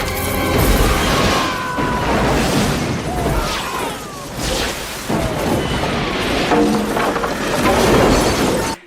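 Bomb explosion scene from the action film Last Action Hero, loud booms and shattering crashes layered with a dense, chaotic soundtrack throughout.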